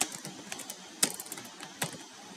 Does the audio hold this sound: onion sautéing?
no